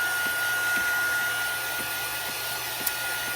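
Steady close-range blowing hiss of a heat tool or dryer drying two wet craft panels before stamping, continuous and loud, with faint rhythmic ticks underneath.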